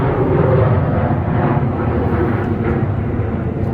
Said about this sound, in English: a plane is going over us